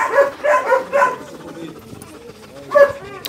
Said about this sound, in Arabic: سلطان ده كلب حلو